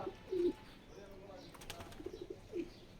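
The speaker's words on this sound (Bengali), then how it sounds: "এই যে বন কবুতরটা আমাদের খোপের উপরে যে থাকে" Wild pigeons perched above a pigeon coop let out soft, brief coos, one early and one near the end, faint against quiet outdoor background noise.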